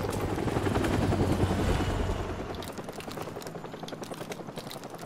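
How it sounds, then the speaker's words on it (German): A helicopter's rotor in a Call of Duty: Modern Warfare Remastered mission thumps rapidly and loudly at first, then fades somewhat as it moves away, the chopping rhythm continuing throughout. "Oh, Helikopter."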